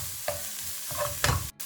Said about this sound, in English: Then you can add the green onions and the peppers that we chopped. Stir it just for a few seconds again.